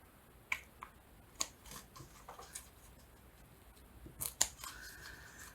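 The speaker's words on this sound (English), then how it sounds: "in these corners I'm just going to cut a little triangle out" Scissors cut small triangles from the corners of a journal cover, a few short crisp snips spaced irregularly and heard close up in a quiet room.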